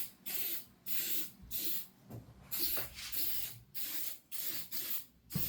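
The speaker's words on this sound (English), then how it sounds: "you can grab some silicone spray and actually lube it up" Silicone spray hisses from an aerosol can in a series of about eight short bursts with brief pauses between, applied close by to lube a Seadoo jet ski wear ring and its gasket during replacement.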